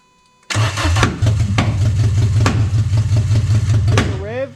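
A Frankenstein F4R engine with no extractor fires up after a short silence, then runs in a loud, rough idle with throttle blips. Voices talk over it.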